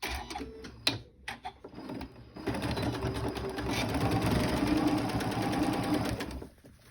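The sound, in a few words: sewing machine stitching lace zipper pouch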